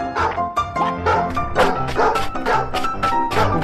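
A dog barks repeatedly in a quick, loud, rhythmic series of close yaps and bow-wows, with a little speech in the background.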